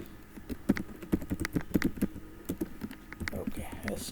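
C code being typed on a computer keyboard, with rapid irregular clicks and clacks of keys pressed in quick bursts, close and fairly soft, and faint room noise between strokes.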